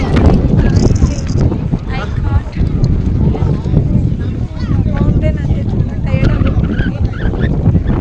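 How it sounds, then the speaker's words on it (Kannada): Strong wind blows hard across the rocky top of Mandaragiri hill near Tumkur, a loud continuous roaring buffet against the microphone that persists throughout while someone talks over it. "ಗಾಳಿ ಬೀಸ್ತಾನೇ ಇದೆ ಗೈಸ್"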